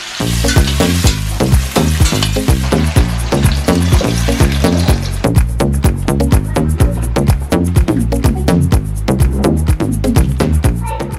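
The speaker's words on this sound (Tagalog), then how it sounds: "Una kong ginagawa, piniprito ko na muna yung isda para mas less lansa din" Fish frying in a pan in a home kitchen. A loud, steady sizzle runs close to the mic throughout, with rhythmic stirring or scraping knocks. No one speaks.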